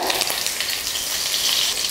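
A steady, bright crackling sizzle of mustard seeds and curry leaves frying in hot oil for lemon rice, close and continuous with no voices.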